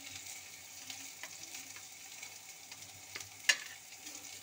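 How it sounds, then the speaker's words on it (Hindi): Eggplant pieces frying in a pan give off a soft, steady sizzle with a few scattered stirring clicks and one sharp scrape near the end, fairly quiet and close, with no voices. "तो इसमें बैंगन को ना पहले फ्राई कर लेते हैं थोड़ा सा"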